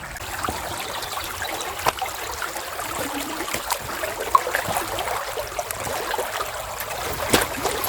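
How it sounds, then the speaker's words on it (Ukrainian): A forest river runs with a soft, steady trickle and burble, and a few small splashes and knocks come through during a crossing on foot, with no talk. "Перейшов я річку."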